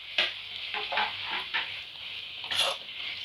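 Green chili, mint, tomato and coriander being stir-fried in a pan for egg podimas biryani: a steady sizzle broken by several quick scraping stirs, close and moderately loud, with no talking.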